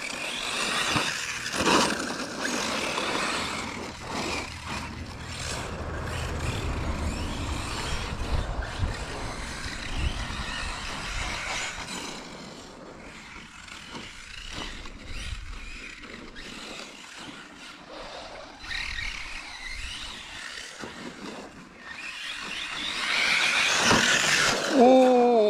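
A Hobao 8SC rear-wheel-drive radio-controlled car on a 6S battery whines and surges as it accelerates, passes and fades, loud near the end, with someone talking in between.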